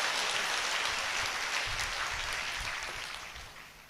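Audience applause at a church healing service: dense, steady clapping from many hands that holds loud and then slowly fades toward the end.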